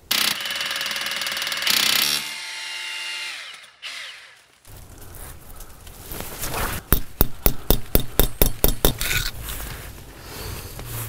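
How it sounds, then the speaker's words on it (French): An eye bolt is screwed by hand into a wall expansion anchor with a conical sliding part, giving tool clatter, a short whirring burst and then a quick series of about ten sharp, regular ratcheting clicks, close and fairly loud. "Lorsque je vais visser mon piton à œil, la partie mobile conique va écarter la cheville"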